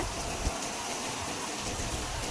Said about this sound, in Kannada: ಎಷ್ಟ್ ಐತ್ ನೋಡ್ರಿಪ್ಪ ಮಳಿ